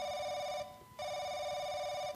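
Ringing telephone in the horror video game The Crooked Man, two bright electronic trills separated by a short pause, clear and steady over faint background hum.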